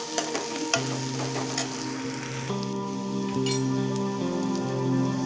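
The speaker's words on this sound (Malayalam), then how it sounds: "വഴണ്ടു വന്ന ഉള്ളിയിലേക്ക് നമുക്ക് അല്പം മഞ്ഞപ്പൊടിയും ആവശ്യത്തിന് എരിക്ക് ആവശ്യമായിട്ടുള്ള മുളക് പൊടിയും ചേർത്ത് കൊടുക്കാം" Onions sizzle in a pan while turmeric and chili powder are stirred in. A steady frying hiss runs throughout, with occasional scrapes and taps of the spoon. No voices are heard.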